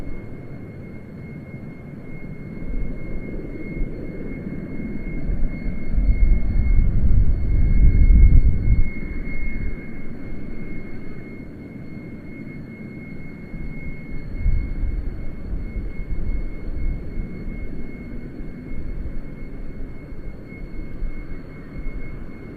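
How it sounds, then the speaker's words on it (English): A Boeing C-17 military transport's jet engines rumble at an airshow departure, a low steady roar that swells to a peak, eases, then rises again, heard from a distance. "the C-17 has been cleared for takeoff"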